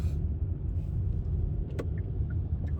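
A car drives around the Orange Circle in California, giving a low, steady interior rumble with a few faint clicks and no talking.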